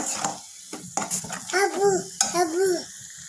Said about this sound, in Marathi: आता याला व्यवस्थित एक मिनिट परतून घेऊयात